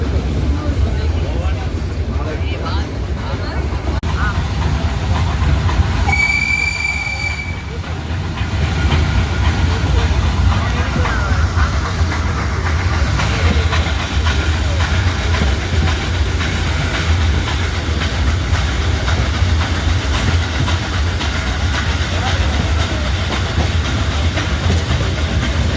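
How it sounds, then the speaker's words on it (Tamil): Ooty toy train running from Mettupalayam to Ooty, heard from on board as a steady rumble and clatter of the carriages, with a brief whistle or squeal part way through, and people talking over it. "இந்த ட்ரெயினில் அந்த புகை வண்டின்னு சொல்லுவாங்கள்ல"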